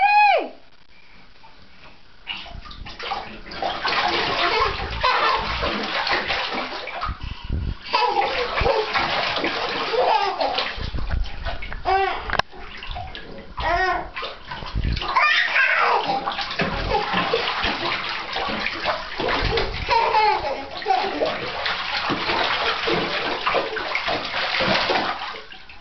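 A child splashes and sloshes water in a filling bathtub, with busy, close splatters and running water throughout and brief pauses between bursts of play.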